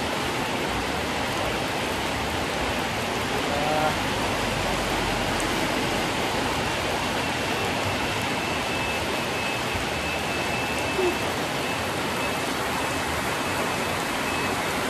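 Steady, dense rain hisses without pause for the whole stretch, loud and close, with no voices.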